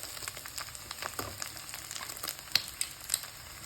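Dried anchovies (nethili karuvaadu) frying in hot oil, giving a soft, steady sizzle with a few sharper pops near the end, fairly quiet and close, with no voices.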